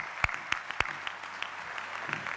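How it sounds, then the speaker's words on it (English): A graduation ceremony audience claps sparsely and faintly in a large hall, a few distinct sharp claps standing out over a soft spread of scattered applause. "I want this audience to give you another round of applause for incredible achievements."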